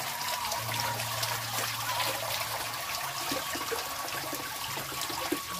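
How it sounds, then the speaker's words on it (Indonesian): Mountain spring water running from a spout at a remote forest-edge village, a continuous even trickle and splash heard close and steady throughout, with no voices. "Tuh di sini ada pancuran airnya dari gunung."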